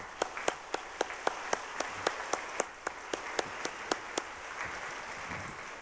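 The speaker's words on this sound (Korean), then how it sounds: "우리 뜨거운 박수로 맞이하십시다." A church congregation at a Sunday service welcomes guests with clapping. Sharp, evenly spaced claps stand out in a steady rhythm over a soft bed of wider applause, moderately distant, with no talk.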